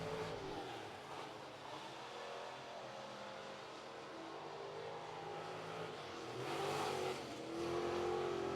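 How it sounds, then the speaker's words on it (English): A race car engine on the Cherokee Speedway dirt track rises and falls as the throttle is worked, heard at moderate distance. It swells louder toward the end with a rising whine. "Hear him playing with the throttle well."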